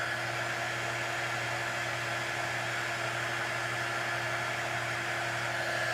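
A hair dryer blows steadily and close on a freshly painted craft sign with a shimmery, slick surface, a constant whooshing roar with a low motor hum running unbroken throughout, no voices over it.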